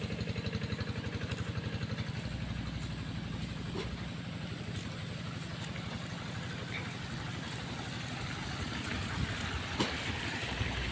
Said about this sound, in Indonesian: Ya, tuh deras sekali airnya teman-teman.